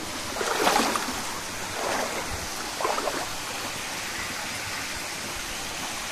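River water rushing along a jungle trail leading toward the Tibu Giong waterfall, a steady broadband wash with a few louder surging splashes near the start and middle.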